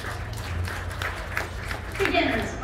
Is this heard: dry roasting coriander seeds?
no